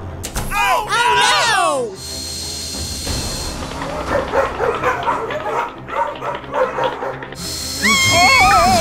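Dogs in a Roblox game yip, whimper and bark in quick bursts, loud and close, mixed with game sound effects and voices talking.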